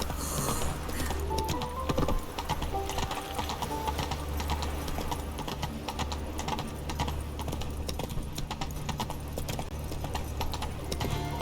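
Geralt's horse Roach galloping in The Witcher 3: Wild Hunt, a fast, steady clip-clop of hooves sustained throughout, with faint ambient background behind it.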